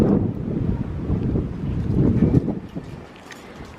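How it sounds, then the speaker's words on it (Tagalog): Strong, cold wind buffets a microphone outdoors beside a field, a continuous loud roar that swells and eases before dropping off near the end, with no voices. "Lakas ng hangin."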